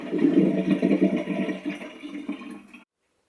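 Rinse water poured off washed vegetables for rabbits and guinea pigs, a loud, close gushing flow that tapers off gradually and stops abruptly, followed by silence.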